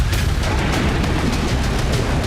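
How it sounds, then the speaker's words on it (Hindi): Explosions strike a residential area during the Russia-Ukraine war, heard as a dense series of loud, rumbling booms and bursts in quick succession. "यहां रिहायशी इलाके में धमाके हुए हैं।"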